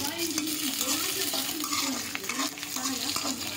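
A tempering of chopped onion and curry leaves fries and is stirred in a pan for brown rice upma, giving a constant bright sizzle with the rhythmic scraping of a spoon against the pan.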